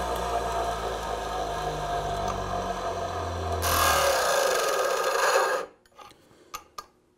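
Grinder shaping the side of a custom moulding plane iron, a steady rough grinding hiss that grows brighter and louder midway, then cuts off, leaving a few light taps and clinks.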